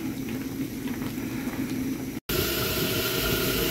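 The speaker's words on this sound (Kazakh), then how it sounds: "Мына буы бұрқырап, қайнап жатыр біздің шабдалымыз." Peach jam boiling in a pot, a steady close bubbling roar that breaks briefly and then returns louder.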